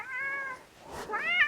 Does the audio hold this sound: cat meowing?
yes